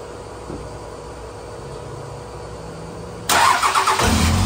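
A 6.7 Cummins diesel swapped into a 1978 Chevy Squarebody truck cranks and fires at the end, breaking a quiet, steady hum with a sudden loud, rough roar.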